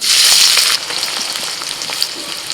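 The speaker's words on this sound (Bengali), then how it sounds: "কড়াই তেল দিয়ে দিয়েছি সরষের তেল ওর মধ্যে আমি ঘি দিয়ে দিচ্ছি এক চামচ মতো এলাচ দারচিনি লবঙ্গ ফোড়ন দিচ্ছি এবার দিচ্ছি পেঁয়াজ কুচি" Chopped onion hits mustard oil and ghee tempered with cardamom, cinnamon and cloves in a kadai, a loud burst of hissing that settles after a moment into a steady, close sizzle with faint stirring.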